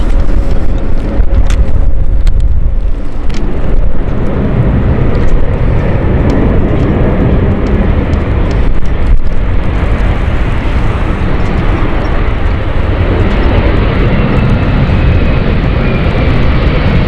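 A CityFlyer airliner on the Glasgow flight landing at London City Airport, a loud, steady roar of jet engines with wind buffeting that holds constant for the whole stretch.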